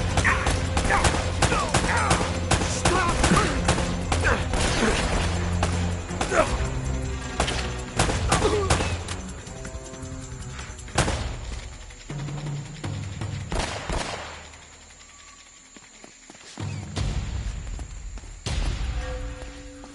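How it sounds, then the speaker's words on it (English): Enemy gunfire in Uncharted: Drake's Fortune comes as rapid, loud bursts of shots and impacts. It is dense in the first half, then thins into scattered cracks with a short lull, and voices talk over the action. "They're shooting at you, too, you know."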